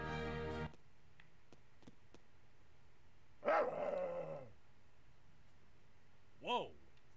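A dog barks in the video game Hollow Knight, a couple of short, fairly loud barks separated by a few seconds of quiet game ambience.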